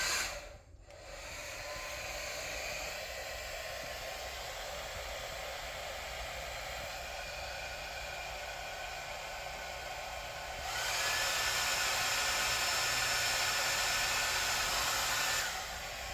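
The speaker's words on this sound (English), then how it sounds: "You're going to hear a fan, if you can hear over this blow dryer." A hair dryer running on a Vtoman FlashSpeed 1500 solar power station blows as a steady, loud hiss on low heat, then steps up louder and brighter about two thirds of the way through when switched to high heat.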